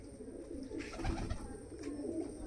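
Soft, low pigeon coos repeating at a moderate distance over a faint background hum, no talking.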